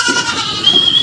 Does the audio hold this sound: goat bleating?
yes